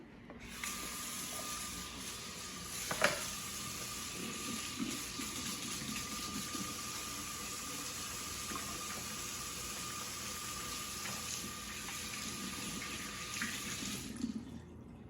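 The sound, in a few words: washing hands under a running tap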